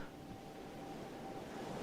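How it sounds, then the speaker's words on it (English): Ocean waves roll in a steady, low, even wash of surf with no distinct breaks, faint and continuous for the whole stretch. "Allow the energy of the ocean wave to fill you up"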